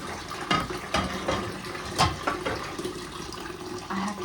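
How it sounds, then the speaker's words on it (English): A bathroom water tap turned up higher, giving steady running water with a few knocks and clunks from the handle, fairly close and without speech. "when I turn the water up higher, it triggers the water heater that's in the bathroom"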